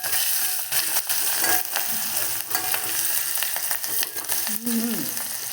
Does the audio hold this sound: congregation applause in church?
no